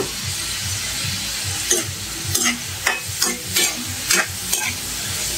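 Pork fat and meat sizzle in hot oil with plenty of chopped garlic, a steady close frying hiss broken by several sharp stirring scrapes and clinks of a utensil against the pan.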